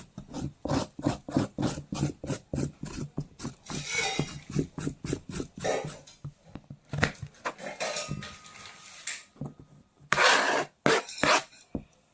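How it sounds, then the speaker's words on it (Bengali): A carrot is rubbed against a grater in a quick run of rhythmic rasping strokes, then slower, scattered scrapes after a short lull, close by in a home kitchen. "কেটে নিই গাজরটাকে একটুখানি ঘষে নিয়ে"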